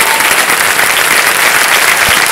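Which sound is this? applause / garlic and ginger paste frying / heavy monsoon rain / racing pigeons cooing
applause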